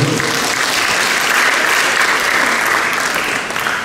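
A large audience at a school academic-year thanksgiving ceremony breaks into loud, sustained applause, a dense wash of clapping close by that holds steady and then begins to fade.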